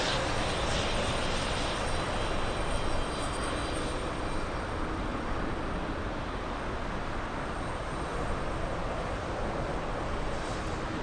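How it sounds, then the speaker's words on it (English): A steady, loud roar of airplanes at Frankfurt airport, a continuous jet engine rumble that holds for the whole stretch with no voices. "Watching the planes for you, Sandy."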